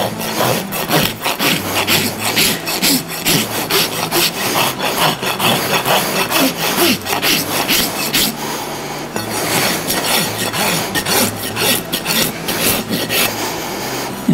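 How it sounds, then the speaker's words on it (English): A farrier's rasp files a horse's hind hoof wall in long, steady, loud back-and-forth strokes, close up, with a brief pause midway and no talk. "I'll just be using the rasp."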